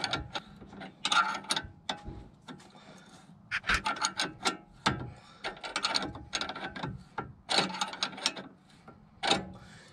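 A ratchet spanner works on gearbox bolts of a Volvo V70 with a 2.4 non-turbo engine and M56 manual transmission, giving repeated close clicking and scraping bursts in uneven rhythm, moderately loud, with no talk.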